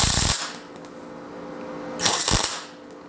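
A welder tack welds a short stud held with an extension nut on a 1951 Chevy rat truck build, giving two brief loud crackling bursts separated by a quiet gap.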